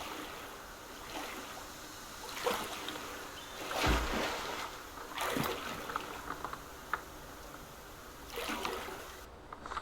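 Oars dip and splash through still lake water as a small boat is rowed in the survival game Subsistence, gentle swishing strokes repeating every couple of seconds with trickling water between, no voices.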